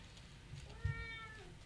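A cat gives a single clear meow, fairly close, in a quiet room during a board game session.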